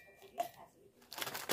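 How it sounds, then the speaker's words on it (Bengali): Biscuits snapped and crumbled by hand for a cake batter, giving a few dry crunchy cracks and crinkles, the densest burst near the end, close and fairly quiet. "সব বিস্কুটগুলো ভেঙে নেব এভাবে।"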